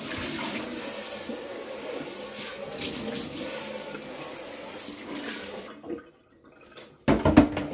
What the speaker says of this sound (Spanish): Lo primero que vamos a hacer es echar agua caliente para ablandarlo.